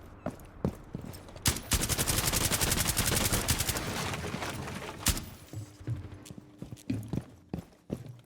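Gunshots in an online shooter video game: a few sharp isolated shots, then a sustained rapid burst of automatic fire lasting several seconds, followed by scattered single shots and impacts.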